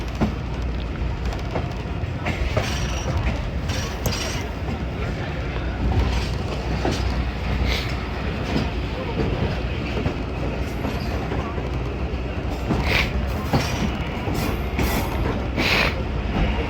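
The Khyber Mail passenger train runs over the Indus River bridge near Attock Khurd, Pakistan, a loud continuous rumble of wheels with rhythmic clickety-clack and faint squeals, heard from on board.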